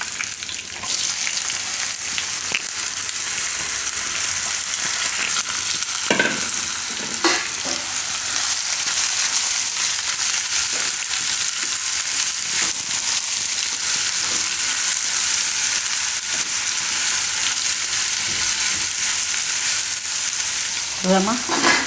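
Bottle gourd frying in a pan with curry leaves, a continuous loud sizzle and crackle throughout with occasional clinks and scrapes of stirring, no talking.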